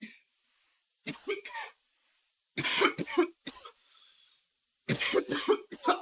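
Several harsh coughs and throat clearing come in bursts after smoking cannabis, close and fairly loud, separated by short quiet gaps.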